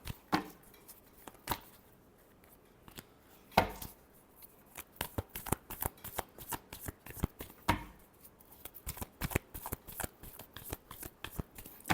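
Tarot cards being shuffled by hand, a quick run of crisp riffling and slapping sounds that grows denser and more rhythmic, close and clear with a few louder snaps and no talk.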